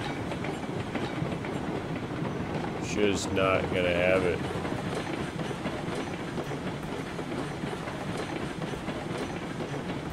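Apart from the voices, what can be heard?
train running on rails in video game RailRoads Online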